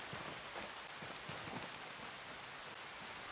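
Steady rain in the video game Ghost Recon Breakpoint, a continuous soft hiss of drops on surfaces at a low, even level, heard alone with no talk.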